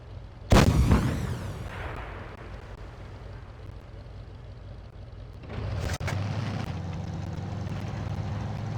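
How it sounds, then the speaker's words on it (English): An anti-tank guided missile fires from a tank in WoT Blitz with a sharp, loud launch blast that trails into a rumbling flight. A second, smaller impact-like crack follows later over a steady engine drone. "Just curved a missile around this hill."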